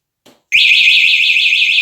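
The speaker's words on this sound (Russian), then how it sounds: "Сигнализация работает так." An electric vehicle's alarm starts abruptly after a brief click, a loud, shrill warbling siren pulsing rapidly and steadily, close to the microphone.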